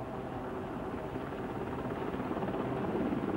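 A helicopter's rotor wash and engine make a steady, fairly loud roar that holds evenly throughout, with no voices over it.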